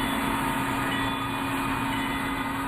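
Train running on a historic railroad in Tyler, East Texas, a loud, steady rumble and rolling clatter with a sustained low hum throughout, close by and without voices.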